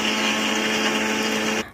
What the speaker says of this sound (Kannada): ನಾನಿವಾಗ ಮಿಕ್ಸಿಲಿ ಇದನ್ನು ರುಬ್ಕೋತಾ ಇದ್ದೀನಿ.